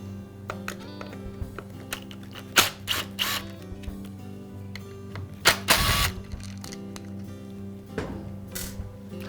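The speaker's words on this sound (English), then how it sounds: "I'll remove the inner chain guard and then the screws that secure the pump to the housing" Screws being removed from the housing of a chainsaw's bar oiler pump, giving close mechanical clicks and ratchet-like driver turns over a steady background hum, with a few louder clattering bursts.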